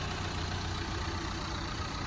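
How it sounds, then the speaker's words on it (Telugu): A 2018 Renault Duster RXS engine idles smoothly and steadily, a close, even low hum with no talk over it. "ఇంజన్ నాయిస్ చూసుకోవచ్చు మీరు, సౌండ్ వినండి ఎంత స్మూత్ ఉందంటే అంత స్మూత్ ఉంది ఇంజన్"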